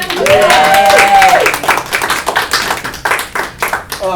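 Audience applause at a talk on the sport of the Highland Games, loud dense clapping from a crowd that thins out into scattered claps, with a voice briefly over it at the start.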